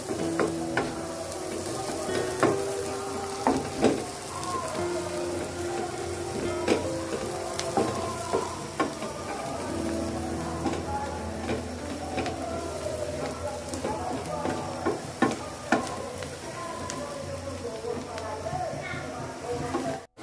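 Onions fry in mustard oil for a shrimp curry: a steady, close sizzle with scattered crackles and occasional stirring clatter, running continuously with a voice and background sounds over it.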